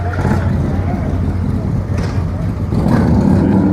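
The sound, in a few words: road traffic passing at the Sturgis motorcycle rally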